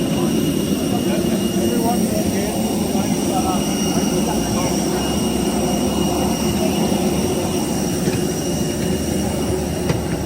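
A small passenger airplane's cabin fills with a steady, loud engine drone and broad rushing hum during flight. The sound holds constant throughout with no clear breaks.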